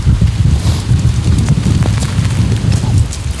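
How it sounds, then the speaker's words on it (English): Strong wind buffets the microphone outdoors beside a lake, a steady loud low rumble with gusty surges throughout and no speech. "Oh, it's a windy one."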